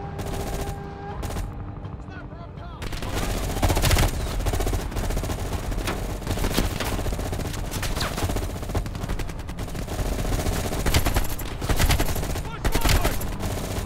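Rapid AK-47 automatic gunfire in Vietnam combat in Call of Duty: Black Ops Cold War, loud repeated bursts and sharp cracks that carry on almost without pause, with a brief quieter opening.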